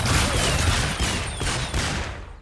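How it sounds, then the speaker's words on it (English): Bazooker's artillery strike weapon power in Skylanders Imaginators, a rapid rattling burst of repeated shots and thumps with whistling streaks overhead, loud and close for about two seconds before tapering off. "Okay, so let's tap Y. Artillery strike!"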